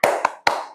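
A classroom of pupils claps a rhythmic chant: a loud clap, a softer tap, then another sharp clap ringing into a brief tail, close and without voices.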